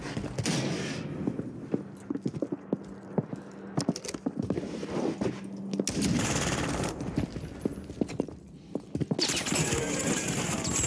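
WSP Stinger pistols fired akimbo in a video game crack out in fast, dense bursts of close gunshots, with brief pauses between volleys and loud sharp reports throughout.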